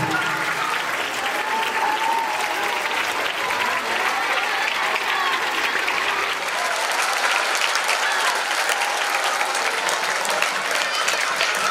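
An audience applauds to welcome arriving guests at a programme, producing dense, sustained clapping that stays loud and even throughout with crowd noise beneath it.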